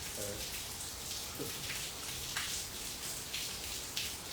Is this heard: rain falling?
yes